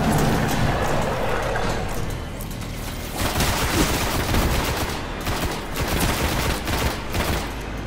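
Rapid gunfire from weapons in the video game Destiny, sustained bursts and volleys rattling steadily across the whole stretch, loud and close with no talk over it.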